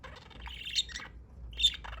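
A pet budgie chirps in two short bright bursts, the second slightly louder, over a faint low room hum with no talking.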